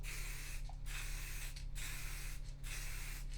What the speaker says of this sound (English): all you need to do is give a light spray over it